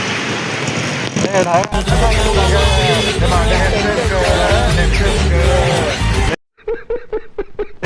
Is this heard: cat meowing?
no